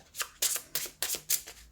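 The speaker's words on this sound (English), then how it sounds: "This deck is kind of difficult to shuffle." A new tarot deck being shuffled by hand, five quick riffling bursts of card edges at a steady rhythm, close and fairly quiet with no voice.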